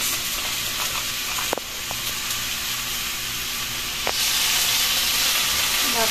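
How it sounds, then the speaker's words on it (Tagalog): Soft drink poured into a pan of sizzling butter garlic shrimp and crab, giving a steady close hiss and crackle, with a couple of sharp clicks and a louder surge of sizzle toward the end. "Lalagay na po namin soft drinks."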